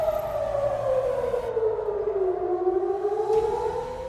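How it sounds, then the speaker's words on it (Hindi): Air raid sirens wail over central Israel, a loud continuous tone sliding slowly down then rising again, steady and sustained with no voices. "मध्य इजराइल में सायरन गूंजने लगे।"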